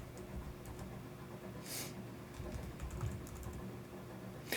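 Computer keyboard typing, a quick run of soft key clicks at close range over a steady low room hum, quiet and without speech.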